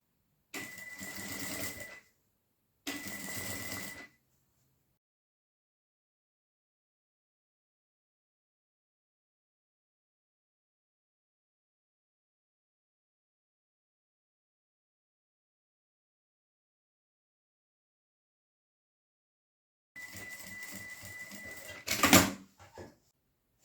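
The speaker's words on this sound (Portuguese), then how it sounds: "Eu vou esticar todinho e vou fazer uma costurinha até terminar essa pontinha do elástico." A sewing machine stitches elastic onto a chef's hat in short, quiet bursts: two quick runs close together, a long silence, then a final longer run ending in a louder clack.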